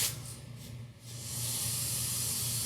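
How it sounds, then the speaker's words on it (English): Hairspray can spritzing onto hair in a barbershop, a close, steady hiss that builds and holds for over a second after a softer start. "Grab a little hairspray"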